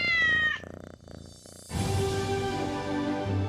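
Cats fight in a quarrel between neighbourhood cats, with a high, wavering yowl followed by low growling and hissing caterwauls. The sound is close and moderately loud and carries on without any talking.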